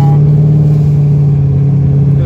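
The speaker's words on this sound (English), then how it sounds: "This car's just running terrible." A Mustang car engine running rough while cruising, heard as a loud, steady low drone close by with a slight uneven throb throughout.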